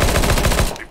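Rapid automatic gunfire from Counter-Strike: Global Offensive, a loud, dense burst of repeated shots in steady rhythm that cuts off abruptly near the end.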